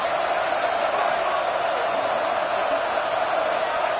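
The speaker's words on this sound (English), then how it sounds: "It's early, but this crowd is fired up. Listen to this noise here." A large stadium crowd at an ACC championship college football game roars in a dense, steady wash of cheering and noise, loud and continuous with no break.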